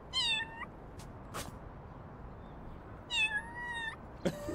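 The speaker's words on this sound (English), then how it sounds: "There's a meow button." Two synthesized cat meows from a cat video game's meow button, each a short rising-falling call, separated by quiet pauses with a few soft clicks.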